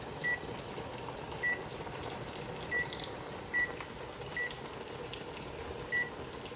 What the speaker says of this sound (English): Now we need to set our timer for 10 minutes.